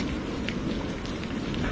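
Steady rain falls at night beside a riverbank, a soft, even hiss that continues without a break.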